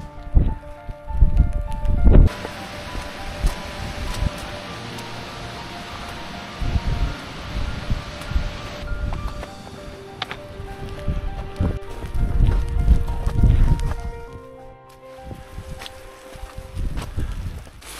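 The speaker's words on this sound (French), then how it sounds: "Bon là il y a trop de vent" Strong wind buffets a mountain trek in the Argentera-Mercantour range between Italy and France, roaring in uneven gusts with rustling and blustery surges against the microphone, and no one speaking.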